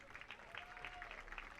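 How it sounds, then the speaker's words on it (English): Fans applauding at a youth football game, a steady wash of clapping from a distant crowd, faint and continuous throughout. "Round of applause from the fans."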